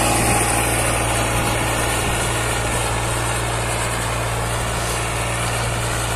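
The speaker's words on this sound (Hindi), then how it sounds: "ट्रैक्टर में धुआं नहीं है बिल्कुल भी, बिल्कुल बढ़िया चल रहा हो।" A Powertrac 439 Plus DS tractor working with a harrow runs with a steady, loud engine drone and a firm low hum, holding an even pitch throughout.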